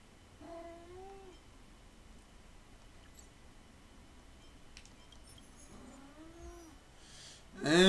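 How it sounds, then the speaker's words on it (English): A domestic cat gives two faint, drawn-out meows several seconds apart against quiet room tone, followed by a brief louder rustle at the end. "And it looks like my cat has decided to join."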